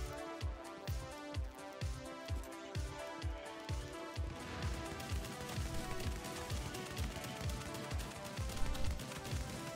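Rapid gunfire from The Division's Dark Zone, with steady bursts of automatic shots rattling in a regular rhythm that turns into denser, overlapping fire; loud and close, with no talking.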